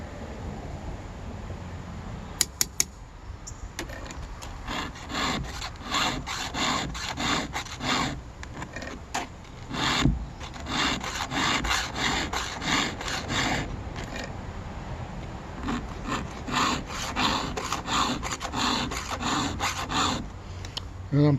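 A rip chain on a chainsaw is hand-filed tooth by tooth, giving a steady run of short, raspy metal-on-metal strokes at close range with small pauses between passes and no talking.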